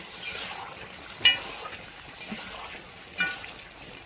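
Garlic and meat sauté in a pot over a wood fire, a soft, low frying sizzle punctuated by a few sharp stirring scrapes and clinks against the pot.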